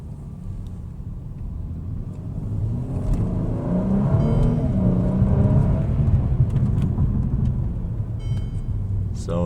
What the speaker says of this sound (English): In the sport mode, the car just loves to rev.